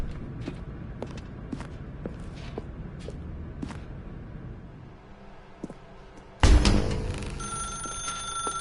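A telephone rings in The Stanley Parable video game, a loud burst of bright ringing that starts abruptly near the end after quiet ambience with faint footsteps, with no voices present.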